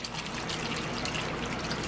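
Homemade scuppernong wine, made without added yeast, pours through a strainer in a steady, dense liquid rush that continues evenly throughout with no talk.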